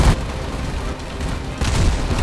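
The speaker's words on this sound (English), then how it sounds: "Oh, I heard an explosion!" A muffled explosion in the video game Kerbal Space Program erupts as a broad rumbling boom, with a second burst of noise swelling up near the end.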